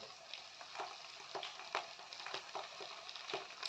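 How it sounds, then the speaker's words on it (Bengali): Ground coriander, cumin and chilli powder sizzling in hot oil in a pan for a kohlrabi curry, a steady crackling fry broken by irregular stirring scrapes, close and moderately quiet. "সমস্ত মশলাটাকে আবার ভালোভাবে আমি কষিয়ে নেব"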